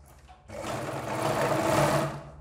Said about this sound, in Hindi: ये जो निशान है इस निशान पर हम लगाएंगे इसको सिलाई